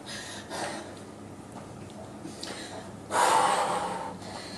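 Heavy, labored breathing during an upper-body workout, with sharp gasping inhales and forceful exhales repeating close to the microphone, one loud rush of breath standing out near the end.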